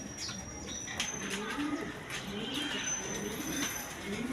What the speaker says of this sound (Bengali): এখানে এক পেয়ার হাই ফ্লাইং গিরিবাস কবুতর আছে দেখেন